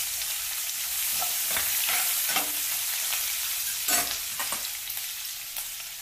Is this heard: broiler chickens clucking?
no